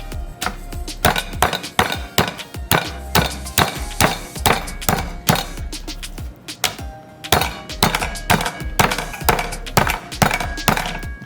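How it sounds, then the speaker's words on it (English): Repeated heavy pounding strikes, fast and steady with short pauses, as a meat tenderizer mallet beats meat on a board for shish kebabs, loud and close. "What I'm going to do is hammer it, tenderize it."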